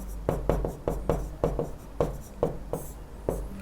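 Pen or marker strokes on a paper anatomy diagram of the female external genital organs, a run of about a dozen short, close scratchy taps at an uneven rhythm.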